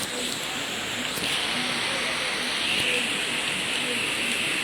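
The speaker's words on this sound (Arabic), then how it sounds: "ونشوفوا بقى المطر." Heavy rain pours steadily in a dense hiss on a street in Alexandria, Egypt, with faint indistinct sounds underneath and occasional sharp ticks of drops striking nearby.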